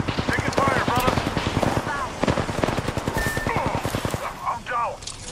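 Rapid machine-gun bursts and single gunshots crackle in a video game firefight, sharp repeated reports in dense rhythmic strings over several seconds, with voices talking underneath the shooting.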